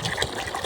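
Water gushes from a household tap in a brief, steady, moderately loud rush with no voices.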